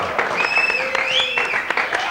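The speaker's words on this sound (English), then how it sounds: "Round of applause, please." Studio applause on a 1992 radio phone-in show: a short burst of clapping, fairly close and steady, mixed with a sliding whistle-like electronic tone.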